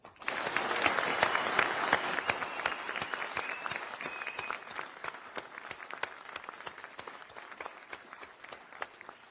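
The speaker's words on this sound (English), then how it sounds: "please join me in a loud round of applause for these incredible soldiers" A crowd gives sustained applause for winners of an Army medic competition in San Antonio, Texas, dense clapping filling a hall and slowly thinning, with no talk over it.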